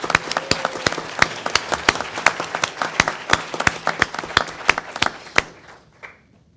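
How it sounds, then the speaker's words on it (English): An audience at a university event gives a round of applause, sharp individual claps ringing out loud and close, thinning and fading away near the end. "let's give them a round of applause for their work"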